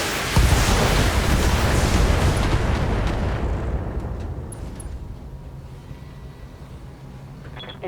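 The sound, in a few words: mech weapons fire and explosions in BattleTech video game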